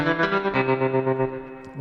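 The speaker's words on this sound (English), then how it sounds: "So we have the spring reverb, and so this is the main reverb for the sound." Electric guitar played through a spring reverb effect: a short sustained chord whose notes pulse in an even wavering rhythm and then ring out into a fading wash.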